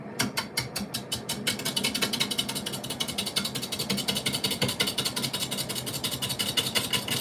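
Wood lathe turning at about 325 RPM in a woodturning shop, giving a steady mechanical hum with a fast, regular rhythmic clatter throughout, close and moderately loud with no talk.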